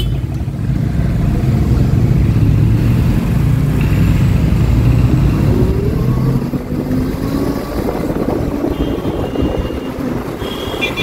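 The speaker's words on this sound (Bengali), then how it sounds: "মোটামুটি এখন ট্রাফিকে আমি আছি আর সিগন্যাল দিচ্ছে।" Steady road traffic heard while riding an Ola Roadster X Plus electric motorcycle in West Bengal, with a continuous loud rumble of vehicles and engines close by and a few brief tonal horn or signal sounds rising above it.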